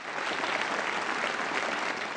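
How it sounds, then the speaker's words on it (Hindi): A studio audience gives strong, steady applause on an Indian television talent show, a dense and loud burst of clapping that carries through without any voices. "क्या बात है, जोरदार तालियां."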